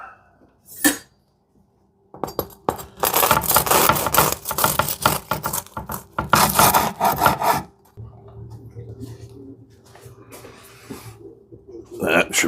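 A knife saws through a toasted meatball and sausage melt sandwich in rough, scratchy back-and-forth strokes, loud and close, with crisp bread crunching and a few clinks.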